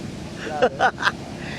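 Ocean surf rolls onto Liwliwa Beach in San Felipe, Zambales: a steady wash of waves and wind noise under a few brief spoken words.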